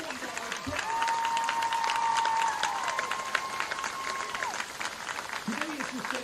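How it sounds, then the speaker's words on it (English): Applause from a crowd in the stands at a varsity men's high school football game runs steadily, with a sustained tone and an amplified voice over it. "let's give a big round of applause to Miss Jill Dunbar."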